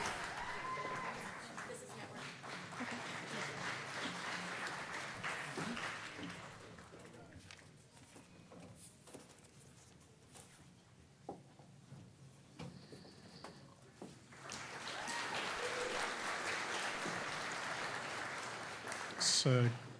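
Graduation ceremony audience applauding, broad clapping that swells at the start, fades through the middle and rises again near the end, with a voice speaking over part of it.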